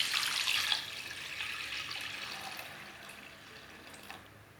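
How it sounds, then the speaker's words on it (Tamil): Water is poured into a pot of green gram dal with a tomato, starting as a strong splashing stream that settles into a softer, fading trickle, alone and without talk. "போட்டுட்டு நம்ம தண்ணி ஊற்றி இதில் வேக வச்சிடலாம்."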